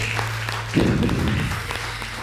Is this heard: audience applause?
yes